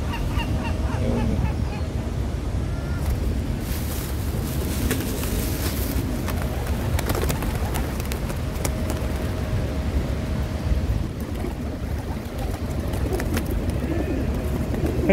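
A large flock of pigeons being fed in Plaza de Catalunya, Barcelona, fills a busy outdoor city square with constant fluttering, cooing and wing noise, with people talking nearby and traffic in the background.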